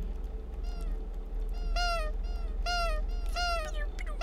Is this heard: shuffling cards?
no